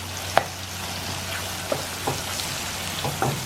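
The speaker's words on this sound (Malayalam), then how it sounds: "നല്ലോണം നമുക്ക് സോട്ട് ചെയ്യാം." Pineapple pieces sautéing in a pan for Anglo-Indian pork vindaloo, giving a steady soft sizzle with a few scattered stirring clicks and pops, close and fairly quiet, with no talking.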